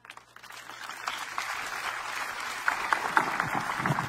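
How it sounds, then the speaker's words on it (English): A church congregation applauds a man healed of numbness in his feet, the clapping building and thickening toward the end, with a few sharper peaks standing out. "That clap is not enough for the miracle working God"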